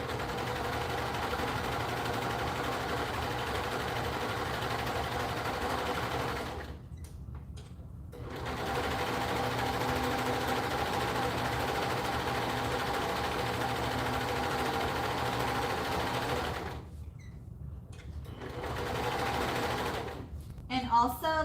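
A serger sewing machine stitches fabric in long, steady whirring runs, stopping briefly twice and starting again, with a person talking over it.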